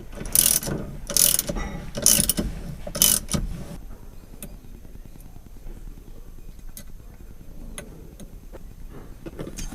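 Bolts on a car steering wheel are tightened with a ratchet, giving four loud bursts of rapid clicking, then quieter scattered ticks and handling noises.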